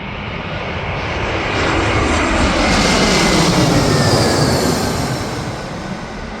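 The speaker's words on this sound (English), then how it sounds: "Wizz Air Airbus A321 should appear pretty much any minute." Wizz Air Airbus A321 jet passing overhead, a loud broadband engine roar that swells, peaks midway and slowly fades, with no talking.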